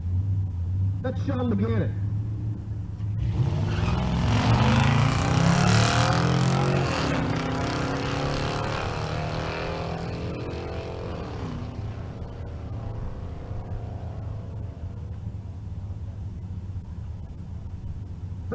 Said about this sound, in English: Justin Gray in the GTX and the supercharged F-150 in the right lane